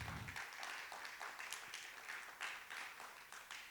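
A conference audience at a blockchain expo gives a round of applause, a steady wash of many hands clapping at a distance, fairly faint, with no one speaking over it.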